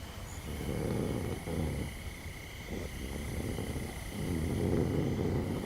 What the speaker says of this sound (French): Ronfle moins fort